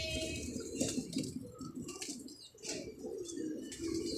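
A pigeon coos in low, repeated throaty phrases close by, with brief chirps and rustling around it and a soft background hiss.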